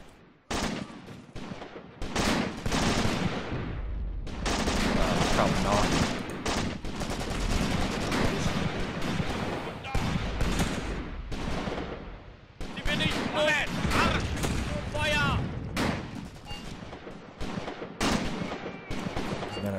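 Gunfire in a Graviteam Tactics wartime battle in a forest: dense bursts of rifle and machine-gun fire with heavy impacts and booms, near and loud, rattling almost continuously with brief lulls.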